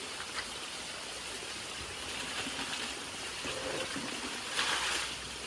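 Small village river stream flowing in a steady, continuous rush of water, close and fairly loud throughout, with no voices.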